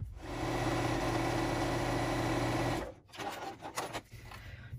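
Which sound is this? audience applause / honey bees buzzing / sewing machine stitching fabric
sewing machine stitching fabric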